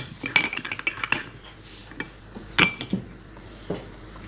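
A spoon clinks and scrapes inside a bowl while a paste of multani mitti clay and yogurt is mixed for a face pack, with quick irregular taps up close that slow into sparser knocks.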